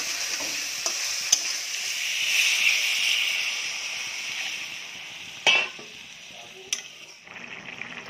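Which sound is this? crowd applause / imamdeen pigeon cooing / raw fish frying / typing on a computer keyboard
raw fish frying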